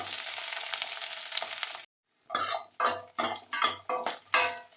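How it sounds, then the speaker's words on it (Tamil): Onions sauté in a pan for sambar: a dense close sizzle runs for about two seconds, drops to silence, then returns as a series of rhythmic stirring scrapes and sizzling bursts. "இந்த வெங்காயம் ரொம்ப வதக்கணும்னு அவசியம் இல்லை, ஒரு 2 நிமிஷம் வதக்கினா போதும்"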